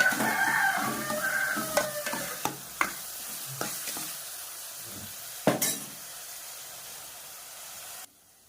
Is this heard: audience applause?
no